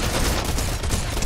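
Rapid gunfire from the player's weapon in Fortnite, a dense close burst of overlapping shots crackling loudly through the whole short stretch, with no talk.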